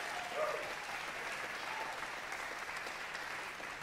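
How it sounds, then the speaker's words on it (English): A concert audience in the New School's Tishman Auditorium claps in steady, dense applause that holds at an even level throughout without a break. "Can we give another round of applause to Mendi and Keith?"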